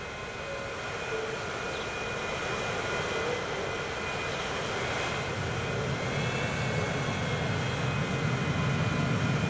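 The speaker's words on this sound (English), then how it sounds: "Look at the planes coming in." Airplanes flying in to land at a Transport Fever 2 airport, a continuous jet-engine roar with a faint steady whine on top, slowly growing louder, with no talking.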